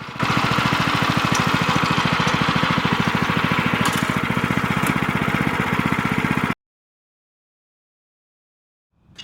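A Hortmasz LX 750 HS212 petrol rotary tiller runs in reverse gear at low revs, a steady close putter of engine pulses that cuts off abruptly, followed by silence.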